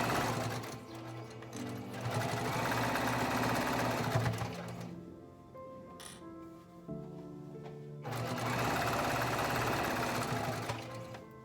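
A sewing machine stitches a fabric bowl koozie, pivoting at a corner: a steady close whirring run, a brief pause with a faint click, then another sustained run of stitching.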